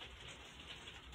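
Rain falls outdoors as a faint, steady patter and hiss, with soft low cooing from a pigeon or dove nearby and no speech.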